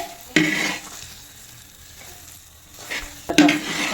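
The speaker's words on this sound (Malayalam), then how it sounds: "വീണ്ടും നെയ്യ് ചേർത്ത് ഇളക്കിക്കൊണ്ടിരിക്കണം" Jackfruit jam (chakka varattiyathu) with ghee is stirred in a pan: a quiet sizzle under a few sharp scraping strokes of the spoon, one near the start and a pair near the end.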